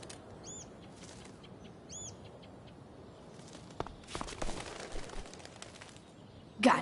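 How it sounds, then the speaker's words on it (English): A bird in the Life is Strange video game gives two faint, short chirps, followed by soft flapping and footstep-like rustles that build toward a sudden louder burst at the end. "If I can scare that bird far enough away"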